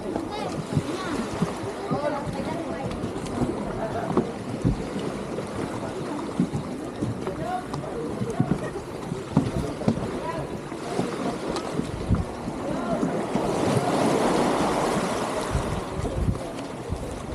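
Waves wash and slosh steadily around a boat docking at port on Biri Island, Northern Samar, with constant wind rumble against the microphone, a busy watery roar building toward the end.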